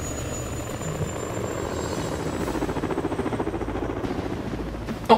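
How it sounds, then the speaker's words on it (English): In the Disney Infinity Spider-Man video game, a helicopter flies with a loud, steady rotor thrum that pulses rhythmically and builds slightly, ending in a brief sharp hit. "would you have to escort the helicopter?"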